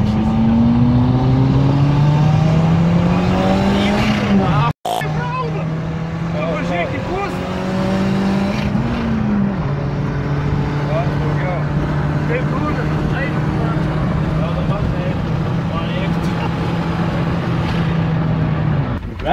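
A Renault Clio engine drones loud and close from inside the car while driving, rising in pitch as it revs and then settling, with a brief cut partway through and some talk over it.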